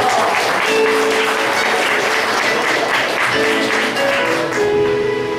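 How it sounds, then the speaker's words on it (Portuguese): A church congregation at an Assembleia de Deus service applauds loudly and steadily for several seconds, a dense wash of clapping with faint sustained musical tones beneath it. "Pode aplaudir a Deus em nome de Jesus."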